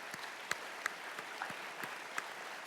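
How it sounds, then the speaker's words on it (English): Scattered applause from an audience at a State of the City ceremony, faint and sparse with a few distinct sharp claps standing out over a quiet room. "I think he led that applause on that because it helps us."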